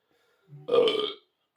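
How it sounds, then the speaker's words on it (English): One close, loud burp rolls out for under a second during a casual podcast recording, then quiet follows. "Thanks for listening to us burp"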